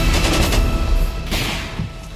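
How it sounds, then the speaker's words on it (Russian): Explosions and gunfire in the war in Donbass, heard as a loud, close burst of rumbling blasts and rapid cracks that fades slightly before a second surge. "На Донбассе после продолжительного затишья снова гремят взрывы и выстрелы"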